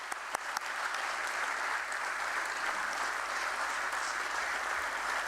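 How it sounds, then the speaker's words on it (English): An audience at a BSE stock exchange listing ceremony for Amagi Media Labs Limited applauds steadily, a dense and sustained clapping that fills the room without pause. "Let's give a huge round of applause for her."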